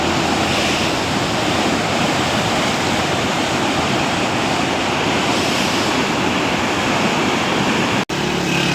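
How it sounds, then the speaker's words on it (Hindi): Floodwater from the Sutlej River rushes through the Head Islam barrage in a loud, continuous roar of churning water that fills the whole stretch, with only a brief break near the end. "ये देखें नीचे बहुत ही ज़्यादा पानी अखराज कर रहे हैं हैड इस्लाम वाले"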